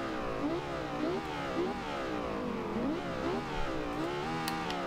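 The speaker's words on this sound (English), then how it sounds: "I don't think that they got the sound quite right on the exhaust" The 2010 Lexus LFA's engine and exhaust in the racing game Forza Horizon 2, a steady droning tone that rises and falls in pitch as the car revs and shifts, sustained and fairly close, with no talking.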